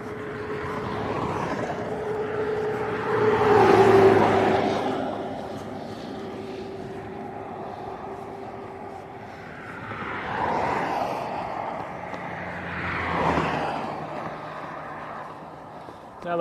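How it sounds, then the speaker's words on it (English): Steady road traffic moves along a country road, heard from a bicycle as several vehicles swell and fade one after another over a constant background rumble, with a voice talking briefly. "You can hear we got a steady traffic."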